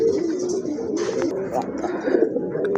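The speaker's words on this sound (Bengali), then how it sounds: "এখন দেখেন আমাদের দেশীয় কবুতর, দেশীয় রাসগোল্লা কবুতর" Native Bangladeshi Rasgolla pigeons coo in low, throaty bursts through the clip, with a few brief chirps and faint background voices and rustling.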